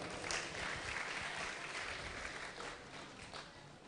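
Audience applause at a Partai Demokrat board announcement event, a steady wash of hand claps for several seconds at moderate distance, slowly tapering toward the end.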